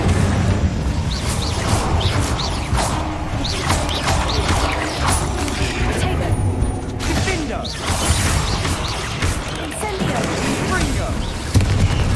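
The Incendio fire spell cast in Hogwarts Legacy, a loud continuous roar of magical flame and crackling effects layered over dense game sound, with brief creaks and bursts throughout.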